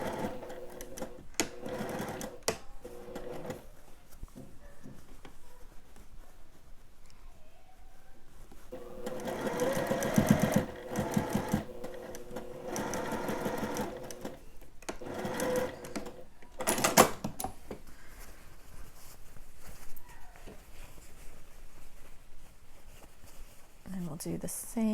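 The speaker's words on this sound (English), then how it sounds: "Sew at 1/2 inch." A sewing machine stitches a dress bodice seam at a half-inch allowance, its steady mechanical whir running in bursts, loudest around the middle, with a few quiet clicks and handling noises around it.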